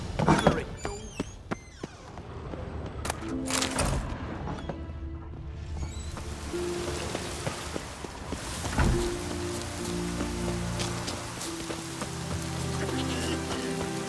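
Steady rain in The Witcher 3: Wild Hunt hisses across the whole scene, mixed with tonal game sounds, a few sharp knocks early on and a brief crash near the start, with voices talking over it.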